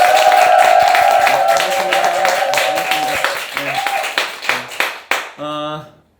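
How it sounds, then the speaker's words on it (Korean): A church audience claps in a loud burst that thins into a few separate claps as it dies away, with voices mixed in. "환호 소리 좀 더 커졌고."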